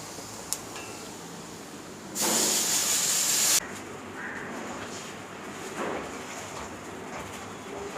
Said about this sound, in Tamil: இப்போ இந்த புதினா பேஸ்ட்டை நம்ம இதில் ஆட் பண்ணிக்கலாம்.